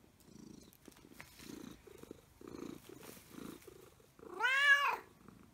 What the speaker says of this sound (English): Purring, are you? Purring, are you?